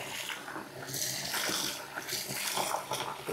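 Water sloshing and splashing in a bathtub as an antique Persian rug is washed and submerged, a steady broadband wash of moving water with a few fuller gushes, close and fairly loud.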